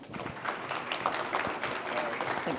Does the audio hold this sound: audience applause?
yes